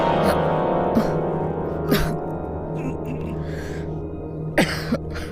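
A young person coughs a few times after eating tasty food at a home meal, short harsh bursts spaced out over steady background hum and room noise.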